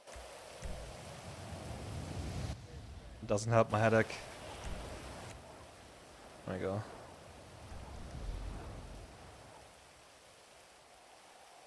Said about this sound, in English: But the rain is so loud.